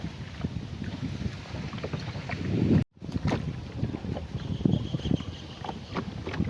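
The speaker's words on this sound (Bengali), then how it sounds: "মিটি মিটি বাতাস কত সুন্দর লাগে" Steady wind rush and water movement from an open boat ride on floodwater in a Tangail village, with continuous broadband noise, low rumbling buffets, and a brief dropout midway.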